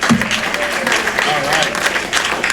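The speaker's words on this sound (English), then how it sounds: "Hey, I got applause." Township council meeting audience gives a brief round of applause, a steady dense clatter of many hands in a hall, with voices murmuring through it.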